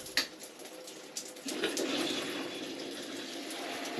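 Water sprays steadily from the hand shower of a shower tower system, a continuous hiss that starts after a couple of faint taps and holds at a constant level to the end.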